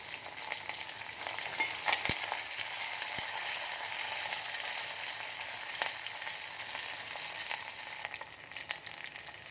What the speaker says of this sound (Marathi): तेलामध्ये मिरच्या चांगल्या तळल्यावरती त्यामध्ये कढीपत्ता सो घालणार आहोत